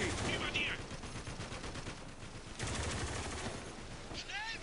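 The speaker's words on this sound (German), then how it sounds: "Schnell, wir sind unter Beschuss!" Bursts of rapid gunfire fill the Spec Ops: The Line game soundscape, loud sustained volleys with a brief lull in the middle, while a voice talks over the shooting.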